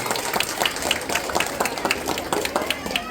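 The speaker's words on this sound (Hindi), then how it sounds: "दूल्हा और दुल्हन के लिए जोरदार तालियों से स्वागत कीजिए" Guests at a wedding reception applaud to welcome the bride and groom, a dense burst of crowd clapping that stays steady and fairly loud for a few seconds, with no voices standing out.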